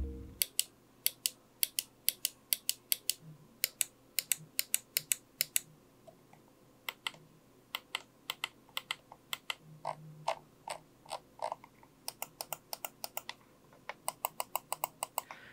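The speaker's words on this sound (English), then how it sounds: "it's got the deepest, most pleasant sounding click to it out of any mouse I've ever heard" SteelSeries Prime wireless mouse switches clicking close up, many sharp, crisp clicks in uneven runs and rapid clusters over a quiet background, with no talking.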